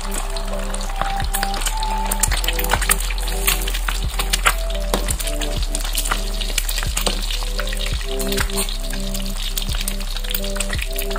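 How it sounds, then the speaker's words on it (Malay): Steady crackling and sizzling of eggs frying in hot oil, with occasional sharp pops and spatters close up. "bila kita goreng telur tu"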